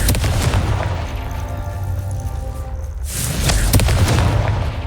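A Confringo fire spell from the Hogwarts Legacy video game goes off as a loud booming blast, with one burst early on and a second heavy explosion around three seconds in, over continuous rumbling noise.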